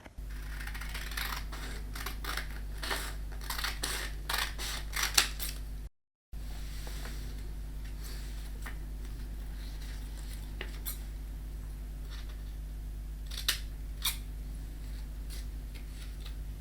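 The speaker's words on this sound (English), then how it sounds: "go ahead and cut out your template." Scissors cut out a paper template for a soda-can alcohol stove, with repeated crisp snips and small mechanical clicks over a steady low hum, nearby and with no talking.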